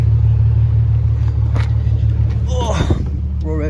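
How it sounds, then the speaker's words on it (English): Infiniti G37 fitted with an ISR exhaust and Y-pipe idles with a steady low rumble that swells into a short rev near the end, with a person talking over the engine. "we'll rev it a little bit just for you guys"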